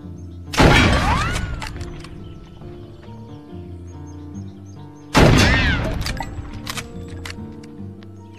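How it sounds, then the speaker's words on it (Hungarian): Two loud gunshots ring out about four seconds apart, each a sharp blast with a long ringing decay, over faint background tones. "Igazán szép lövés."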